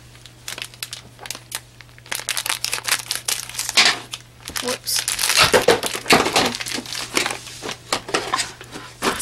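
A plastic bag holding a toy is crinkled and torn open by hand, loud crackling and rustling bursts that grow busier midway, with a person talking over the handling.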